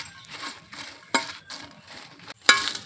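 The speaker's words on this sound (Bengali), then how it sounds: "এখন আমি মরিচগুলা বাজিয়ে নিলাম" Dried chillies fry in a pan while a spatula stirs them in rhythmic scraping strokes, broken twice by sharp metallic clinks against the pan, with a soft sizzle underneath.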